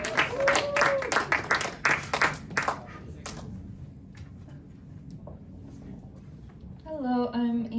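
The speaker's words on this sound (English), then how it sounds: "Round of applause." An audience claps in applause for about three seconds, fading out into quiet room tone before a voice begins speaking.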